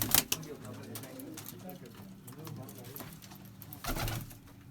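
Pigeons at a breeder's loft in Bathinda cooing softly in low, rolling murmurs, with wing flaps and handling bursts at the start and near the end; people talk nearby.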